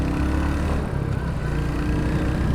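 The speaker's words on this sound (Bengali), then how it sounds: "বাইকটার সাউন্ডটা, একজস্ট সাউন্ডটা একদম" A Royal Enfield Hunter 350 motorcycle ridden on a rough road at night, its exhaust giving a continuous low, throbbing engine note that stays close and fairly loud throughout.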